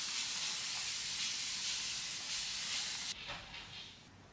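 Water and conditioner spritzed from a spray bottle onto a curly wig, making a continuous close hiss that stops abruptly near the end and leaves a softer fading spray.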